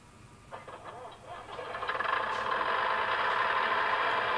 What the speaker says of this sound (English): Oh, he's idling. Yep, definitely idling.